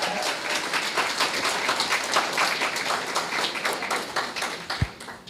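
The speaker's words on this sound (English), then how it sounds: "Give her another round of applause." Sustained applause from a ceremony audience at a university honor roll recognition event, steady clapping filling the room for several seconds with one sharp louder clap near the end.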